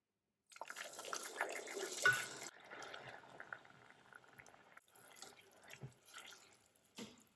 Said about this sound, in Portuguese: Eu vou acrescentar agora a água.